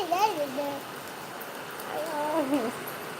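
Heavy rain falls outdoors around a home garden full of potted plants, making a soft, steady hiss in the background while people talk over it.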